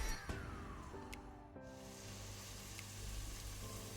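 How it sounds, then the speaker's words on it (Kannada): Ground tomato paste frying on a medium flame, a steady soft sizzle that holds at a low, even level throughout with no talking. "ಇದನ್ನು ಸಹ ನಾವೀಗ ಮೀಡಿಯಂ ಫ್ಲೇಮಲ್ಲಿ ಒಳ್ಳೆ ರೀತಿ ಫ್ರೈ ಮಾಡಬೇಕು"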